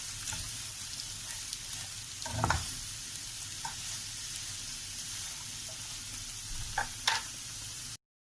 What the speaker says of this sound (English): Now I am going to mix it.